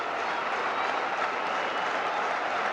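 Steady, dense applause and crowd roar from a packed Red Sox baseball stadium, a continuous wash of clapping and cheering with no distinct breaks.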